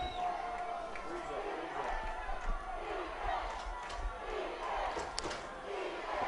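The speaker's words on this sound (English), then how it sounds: "Hill City crowd chanting defense" A crowd at a high school 8-man football state game, Hill City fans chanting defense, as a steady roar of many voices at a distance under an announcer's commentary.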